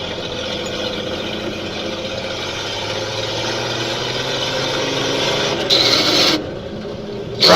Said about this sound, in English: Grinding the gears.